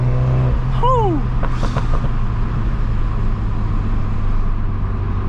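A MINI John Cooper Works F56 hatchback's engine drones steadily inside the cabin on a night drive, with a quick pitch sweep and a few sharp pops as it shifts up early on.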